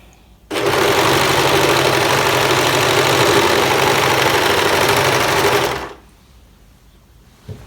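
A sewing machine stitches a ruffled skirt in one continuous, fast, even whir lasting about five seconds, close and loud, then stops into quiet.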